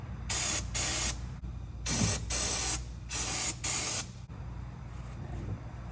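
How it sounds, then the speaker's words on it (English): Brake cleaner sprayed on the manual transmission of a 2011 Toyota Tacoma: five loud, sharp hissing aerosol bursts of about half a second each, close by, separated by short pauses over a low background hum. "I'm gonna spray brake clean"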